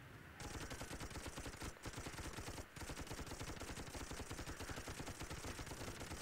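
Rapid, dense automatic gunfire from toy soldier turrets in the video game Toy Soldiers, a sustained loud rattle of shots with brief pauses and no voices.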